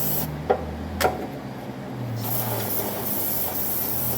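A compressed-air blowgun and brake cleaner spray blast dirt out of a car part. Two sharp clicks come first, then a loud, continuous close-up hiss of rushing air and spray with no talking.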